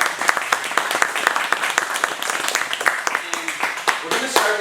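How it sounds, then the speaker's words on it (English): Applause from a small audience at a book talk in a bookstore, scattered clapping with distinct individual claps, with voices talking over it. "So round of applause."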